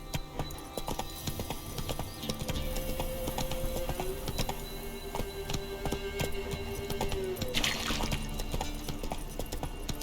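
Roach, a horse in the video game The Witcher 3, trots with steady hoof clip-clops over a continuous game ambience, while a faint tonal drone sits underneath.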